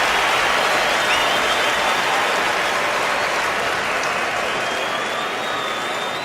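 A stadium crowd at a 2014 49ers at Broncos NFL game applauds a departing player, a broad, sustained roar of clapping and cheering from a large distant crowd.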